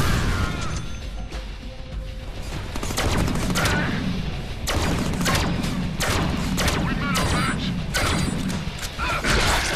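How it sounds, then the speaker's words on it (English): Grenade explosions and gunfire in the Deadpool video game, a dense run of sharp blasts and crashes layered over steady game noise and mechanical clatter, loud and continuous throughout. "I forgot I had grenades."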